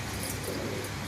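A breeding pair of pigeons gives a short, soft cooing call against a steady low background.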